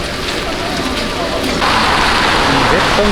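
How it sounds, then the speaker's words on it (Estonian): Steady rain patters down in a constant hiss, loud and close, at an outdoor song and dance festival procession in Estonia. It grows slightly heavier about halfway through. "vihma sajab."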